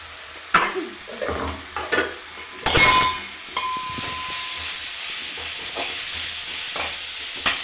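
Grated coconut frying and stirred in a pan: a steady hissing sizzle with several sharp scrapes and clanks of a spoon against metal early on, close and fairly loud.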